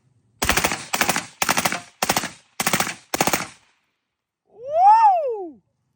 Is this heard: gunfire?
yes